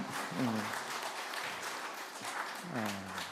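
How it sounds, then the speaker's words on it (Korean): Applause from a congregation at a Sunday church service fills the clip, with a voice speaking over the clapping. "박수해 주시기 바랍니다"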